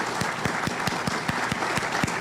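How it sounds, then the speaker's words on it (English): Audience at a power plant commemoration ceremony clapping in steady rhythmic unison, about ten even claps in two seconds, close and clear with no talking. "Ladies and gentlemen, big round of applause for Keith and Bob Eisler."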